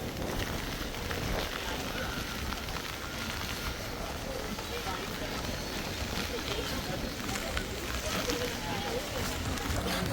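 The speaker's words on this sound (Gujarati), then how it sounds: "ફૂલ વરસાદ આવે છે ભાઈ, ચાલુ થઈ ગયો પાછો વરસાદ" Heavy rain pours again at the Saputara hill station, a dense, steady broadband patter filling the whole stretch with people talking under it.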